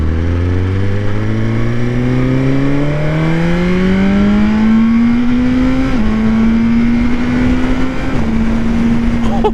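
Motorcycle with a quick shifter, ridden on the road: the engine pitch climbs steadily through the revs, then holds with small dips at shifts, loud and close, with a little talk over it.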